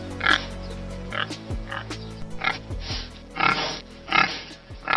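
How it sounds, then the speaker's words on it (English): A cartoon pig oinks in a children's animation, several short nasal grunts spaced unevenly across a few seconds over a faint low backing tone. "Pig."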